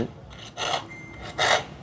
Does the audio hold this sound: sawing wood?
yes